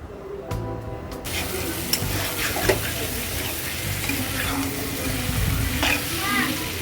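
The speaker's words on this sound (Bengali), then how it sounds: "আমি আরও 2 থেকে 3 মিনিট একটু মশলার সাথে ভেন্ডিগুলো ভেজে নিলাম" Steady sizzling of okra frying with spices in a pan, with occasional stirring scrapes and clinks, continuous and close throughout.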